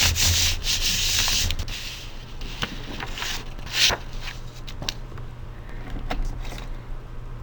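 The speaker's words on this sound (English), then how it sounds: "you can also flip your artwork over and rub on the back side of your artwork" Paper artwork rubbed on its back side to glue it down, a soft scratchy rubbing in short irregular strokes, close and fairly quiet.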